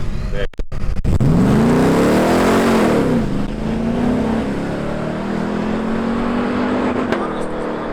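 A car engine roars up hard in a close, loud acceleration, pitch rising then settling into a sustained high drone as it speeds away; a voice speaks over it.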